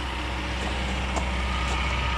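A 450 pickup truck on new tires runs on a cold morning, its engine a steady, close, unbroken low drone with no one speaking.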